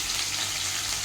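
Sliced onion frying in a hot pan at home, a dense, continuous close sizzle with no pauses or voices.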